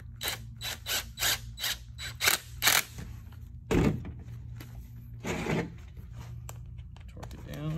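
A ratchet clicks in quick bursts while tightening a hose clamp on a CIPP lateral pipe liner, with rapid series of sharp ratcheting clicks, a few thunks and pauses between, close and fairly quiet.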